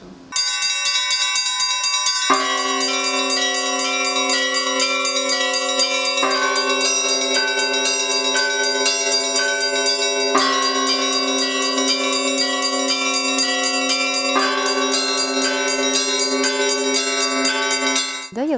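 Church bells at the Gremyachev monastery, rung by a nun, peal in layered tones, with deeper strikes landing every four seconds or so beneath a steady chiming pattern, loud and close with no talking.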